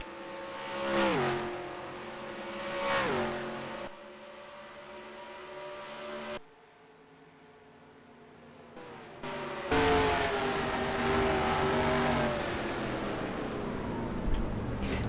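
NASCAR stock cars lapping Charlotte Motor Speedway in NASCAR Racing 2003, engines rising and falling in pitch as several cars sweep past, a brief lull, then a loud pack roaring by.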